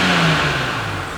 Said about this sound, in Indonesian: Dan akan kita coba gas mobilnya.